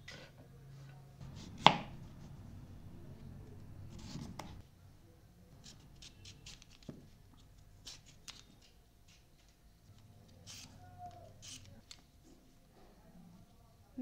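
Fresh beetroot is rubbed over a very fine grater, making quiet, intermittent rasping strokes at close range with short pauses and a few faint knocks between them.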